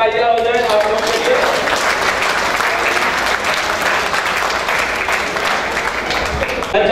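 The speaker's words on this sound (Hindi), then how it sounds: "तो मैं चाहता हूँ कि एक बार जोरदार तालियां हो जाए आप लोगों के लिए।" Loud, sustained applause from a large audience at a real estate company gathering in India, dense clapping filling the whole stretch without a break.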